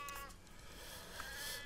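A starving cat in the Sheltered survival video game gives a faint, short meow-like cry, quiet and close, with no talk over it.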